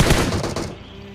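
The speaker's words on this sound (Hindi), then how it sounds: "यहाँ पर मैं अंधी गोली चला रहा था" Gunfire in PUBG mobile gameplay, a loud rapid burst of shots fired blind that cuts off and fades into a short tail after about half a second.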